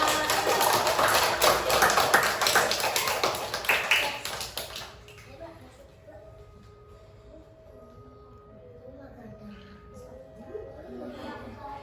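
Applause for a presenter in a children's earthquake-preparedness lesson: a burst of quick group clapping for about five seconds, then quieter room sound with voices talking.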